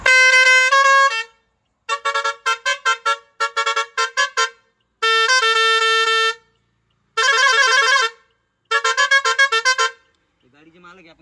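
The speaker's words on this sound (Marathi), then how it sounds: "आपली 3 पाईपची जी बजरंग कंपनीची हॉर्न आहे ती ऑल फिटिंग आपली झालेली आहे।" A Bajrang three-pipe pressure horn fitted on a Bolero pickup blares loud and close in tuneful multi-tone patterns, long blasts alternating with rapid staccato bursts and pauses, alone without talk.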